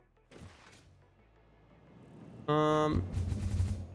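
A cannon fires in the factory-building game Satisfactory: a sudden loud blast with a ringing, tonal burst that rumbles on for over a second, preceded by quieter mechanical clatter.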